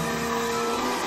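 A hair dryer blows a steady, close hum of air across water and paint on a foam insulation board, unbroken and even for the whole moment with no voices.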